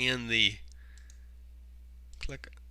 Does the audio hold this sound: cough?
no